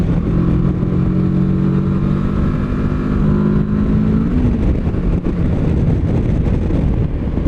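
Kawasaki Versys 650 motorcycle from 2021, its engine pulling steadily under acceleration with a rising tone, loud and close amid strong wind noise.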